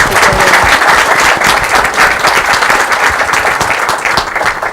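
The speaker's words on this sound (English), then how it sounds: "Join me in a round of applause for them" An audience applauds a conference panel after a question session, loud, dense clapping filling the whole stretch at steady intensity with no talk over it.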